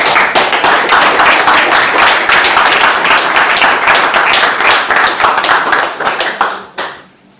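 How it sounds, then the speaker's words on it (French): A church congregation claps together during a French-language sermon, giving dense, lively applause that holds steady for several seconds before quickly dying away. "Applaudissons pour notre Père"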